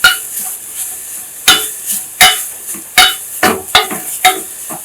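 Asafoetida powder sautéing in oil with fenugreek for a rasam masala, a faint low sizzle broken by repeated sharp ladle scrapes and clinks against the pan, close and irregular.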